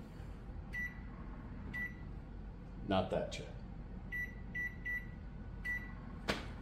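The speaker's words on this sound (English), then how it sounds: "You got to microwave them." A microwave oven runs to soften vegetables for a summer okra stew, its steady hum low beneath the talk, with a few short high beeps and a clunk of the door partway through.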